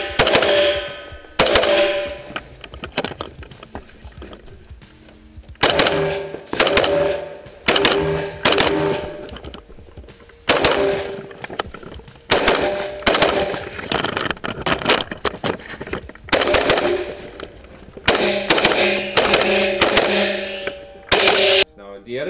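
Rifle fitted with an Arredondo muzzle brake fires a series of sharp, loud cracks, about a dozen shots spaced irregularly a second or two apart, each leaving a brief ringing tail.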